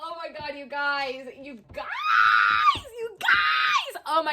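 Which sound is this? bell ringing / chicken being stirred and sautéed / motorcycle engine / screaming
screaming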